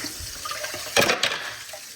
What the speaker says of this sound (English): Put them in the strainer, please. And then we'll rinse them off like that.